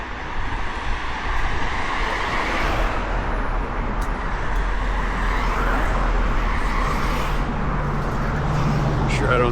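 Steady car traffic rolls along a Dallas street at night, a continuous broad roar of passing engines and tires heard from the sidewalk, loud and unbroken throughout.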